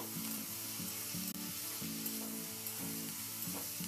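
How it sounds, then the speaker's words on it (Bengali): Potatoes fry with salt and turmeric in a pan over a high flame, giving a steady, loud sizzle throughout, broken by repeated scraping strokes of a stirring spoon. "লবণ আর হলুদটা দিয়ে হাই ফ্লেমে আমি 3-4 মিনিট একটু ভেজে নেব"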